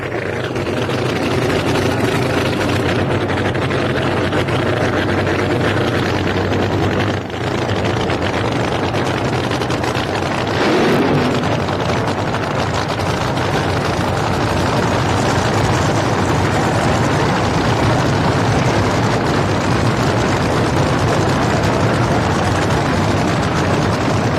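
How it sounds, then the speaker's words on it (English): Drag racing car engine roaring through a dry burnout at a 1986 drag strip shootout, a loud, sustained, dense roar that stays steady throughout with no talk. "sounding strong as he makes his dry burnout"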